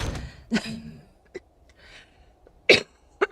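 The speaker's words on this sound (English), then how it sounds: "I got a bit of a cough." A person coughs several times in short, sharp bursts separated by quiet gaps, close and fairly faint, with a few breathy sounds in between and no talking.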